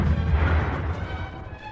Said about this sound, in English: A flash of fire. Explosions.